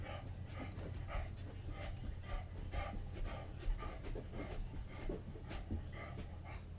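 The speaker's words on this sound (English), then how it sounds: "That's my dog." Faint, steady panting from a nearby dog, with a rapid breathy rhythm that runs throughout.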